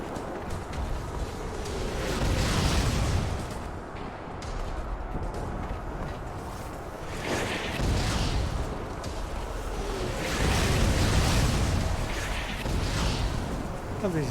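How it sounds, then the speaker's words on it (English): Explosions rumble in the video game Mars War Logs, several muffled booms rising and fading over a dense, noisy background of game sound. "What are these random explosions?"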